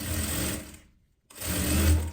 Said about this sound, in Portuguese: Vou costurar ele aqui